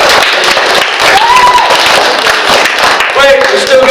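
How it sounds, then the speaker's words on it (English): Audience applause at a library magic show, a dense steady wash of clapping from a crowd, with whoops and a voice rising over it partway through. "Give him a round of applause."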